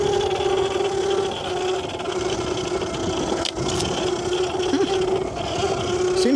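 A Yozma IN 10 electric motorbike fitted with a Supermoto wheel set riding across grass: a continuous, loud rumbling drone with a steady whine, bumpy texture and one brief dip, heard up close without talk.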